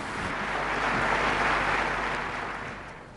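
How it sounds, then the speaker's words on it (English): Applause bursts out across the large United Nations General Assembly hall, a broad, steady wash of many hands that swells and holds for a few seconds before easing off slightly. "Obama's call for a Palestinian state drew a burst of applause from throughout the hall."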